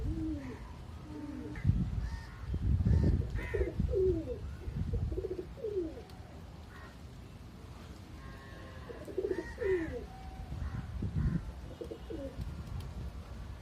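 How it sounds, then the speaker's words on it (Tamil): Karna pura pigeons at a loft coo in repeated low, throaty phrases, loud and close at first, then quieter, returning in bursts of several calls against faint outdoor background. "இன்னும் பேலன்ஸ் ஒரு 2 புறா, ஒரு சாதா புறா, ஒரு கர்ணபுறா ஒன்று பறந்துட்டுருக்கு."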